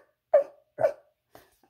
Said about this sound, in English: Right, that's a dog.